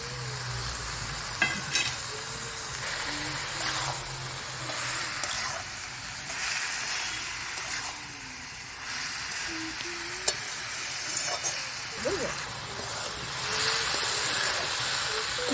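Potatoes fry in a pan with a steady, fairly loud sizzling hiss, sprinkled with sharp pops and occasional stirring scrapes and clicks.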